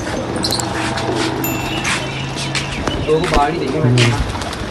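Pigeons coo softly in a loft in a steady low rumble, with faint chirps and shuffling nearby and a voice speaking briefly over them.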